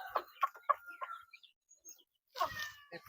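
Chicks cheep in a rural Philippine province yard: a quick run of short, high chirps, then a pause and another burst of cheeping, fairly close and moderately loud.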